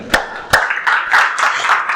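A few sharp hand claps ring out in a church gathering, two distinct strikes near the start followed by a looser patter of clapping from a small number of people, fairly close and without voices over them.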